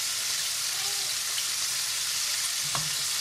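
Hot oil sizzles hard as cold water hits chicken frying in a hot pan, a dense, steady hiss throughout with a brief stir clatter near the end.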